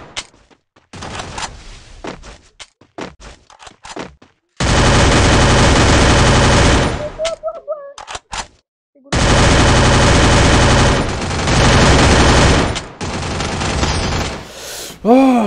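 Bursts of rapid automatic gunfire in a video game, some short and scattered, others long sustained volleys, loud and close with brief quiet gaps between.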